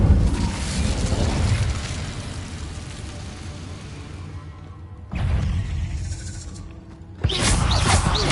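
Fire spell cast in the Hogwarts Legacy video game: a loud, close roaring burst that tails off into a hiss, followed by two more sudden flaring blasts, with no talking.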